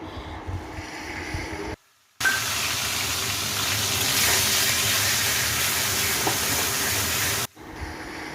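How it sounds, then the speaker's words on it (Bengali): Two medium onions, grated on a hand grater, fry in hot oil with a loud, broad, steady hiss that cuts out briefly twice, near and alone. "এই পেঁয়াজ দুটো আমি ঘষুনি বা গ্রেটার যেটা থাকে ওটা দিয়ে গ্রেট করে নিয়েছি।"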